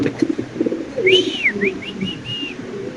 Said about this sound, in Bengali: মাশাল্লাহ বিশাল বড় সাইজের কবুতর